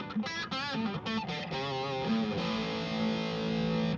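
A Bogner guitar amp in its 80s mode at NAMM 2016 gives a tight, compressed distortion tone: sustained electric guitar chords and notes ring out loud and steady, with no talking.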